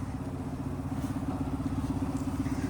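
A Subaru off-road car's engine drones steadily at the finish of a circuit race on an off-road proving ground, a continuous rumbling hum heard from a moderate distance.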